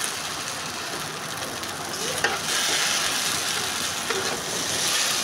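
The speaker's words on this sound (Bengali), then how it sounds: "এখন আমি আর একটু হালকা হাতে লুডুসগুলো ভেজে নেব" Ludus sweets fry in a pan with a continuous bright sizzle and crackle, steady and close throughout, with a faint stir of the pan and a voice talking underneath.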